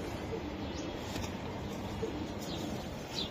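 Racing pigeons in a loft coo softly at a distance, low murmuring calls with a few faint chirps over a steady background hiss.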